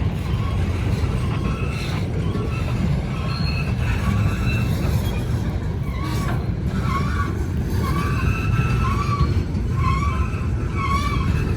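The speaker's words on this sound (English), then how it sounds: "Got a squeaky wheel here." Old Southern Railroad coal cars roll past on a Norfolk Southern trestle, their wheels giving repeated high metallic squeals over a steady loud rumble of rolling stock, continuous and close.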